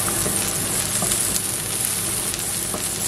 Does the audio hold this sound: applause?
no